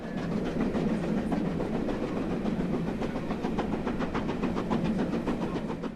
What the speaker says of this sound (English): fully serviced, the train started its return journey to London